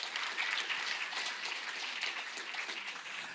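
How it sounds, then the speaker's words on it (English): An audience at the opening event of a Somali Week Festival applauds steadily, a dense wash of many hands clapping at a moderate distance with no speech over it. "So please give them round applause."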